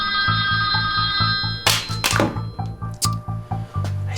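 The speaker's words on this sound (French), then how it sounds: "j'ai oublié d'éteindre ma sonnerie, ça arrive à tout le monde." A phone ringtone repeats in quick, steady pulses while louder thumps and rustling break in over it partway through.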